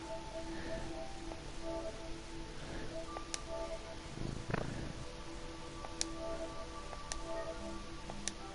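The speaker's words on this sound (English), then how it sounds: "my cat's literally on my bed. Yeah, it was right up against the mic" A cat lying on a bed purrs right up against a microphone, a close, steady low rumble that runs the whole time, with faint clicks and tones in the background.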